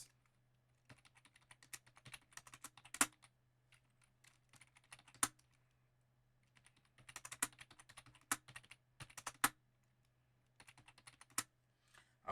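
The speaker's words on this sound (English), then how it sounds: "I'm going to type in all of those values." Fingers tap keys on a TI-Nspire calculator while entering data values, bursts of soft, quick, close clicks separated by short pauses over a faint steady hum.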